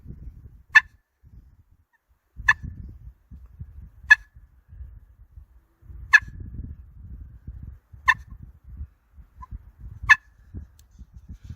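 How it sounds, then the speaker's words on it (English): Six sharp, evenly spaced turkey clucks struck on an HS Strut Cookie Cutter pot call, roughly one every one and a half seconds, clear and close over low rumbling handling noise. "to make it not sound like an alarm putt, you just set your striker tip down into the cluck zone there on that"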